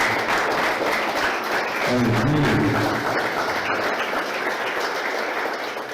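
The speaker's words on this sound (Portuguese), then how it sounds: "Vamos aplaudir nosso Deus." A church congregation applauds together in a dense, steady burst of clapping filling the room, with a voice briefly speaking over it partway through.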